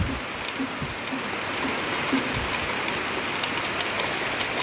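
Steady rain pours down outdoors, a dense, even wash of falling water that holds the same level throughout, with a few faint, low knocks underneath.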